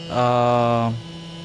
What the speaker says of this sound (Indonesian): Blowernya akan langsung suaranya keras karena dia akan mendinginkan elemen yang ada di dalam sini